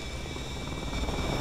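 Continuous rumbling whir of a helicopter in Call of Duty: Advanced Warfare, with a steady rotor drone, loud and close, with no talking.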